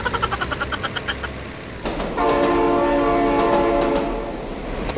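A train in the BeamNG Drive driving game rumbles past with rhythmic wheel clatter, then a loud sustained horn blast that holds for a few seconds and fades slightly, close and alone without talk.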